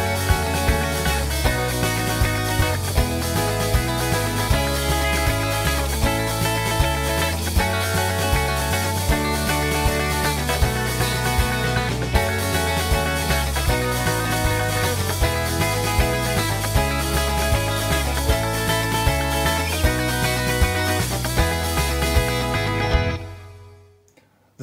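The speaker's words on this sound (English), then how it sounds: "So together with the full band, the verse sounds like this." A full rock band plays a steady, loud verse of a song with driving drums, bass and layered guitars, ending abruptly near the close.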